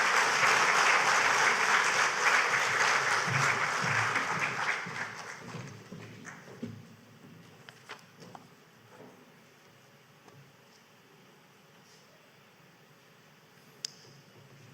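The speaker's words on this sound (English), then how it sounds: "So give him another round of applause for that." Conference audience at a cultural and creative industries event in Grenada breaks into loud applause that fades out after about five seconds, leaving scattered faint claps and room noise.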